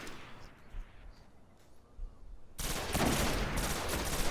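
Dense bursts of video game shooter gunfire burst in suddenly and loudly after a quiet, faintly noisy stretch, continuing as a rapid fusillade.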